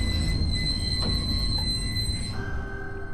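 Train rolling on rails in the horror game Tsugunohi, a steady low rumble of carriage noise with faint wheel squeal and thin high tones, continuous and close with no voices.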